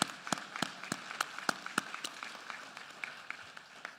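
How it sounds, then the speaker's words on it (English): A school-facility audience applauds during an address on public education, with sparse, distinct claps standing out over a light bed of clapping that tapers off. "Let's give a round of applause."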